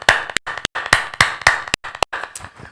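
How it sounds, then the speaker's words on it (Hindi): A church congregation claps to thank God, loud, sharp, close hand claps in a quick uneven burst, with brief silent gaps between them. "एक अच्छी ताली के साथ हम परमेश्वर को धन्यवाद देंगे।"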